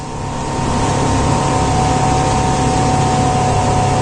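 A 1999 Sea Ray 270 Sundancer runs at wide open throttle at about 30 knots, giving a loud, steady, close engine drone mixed with rushing water and wind, with no talking.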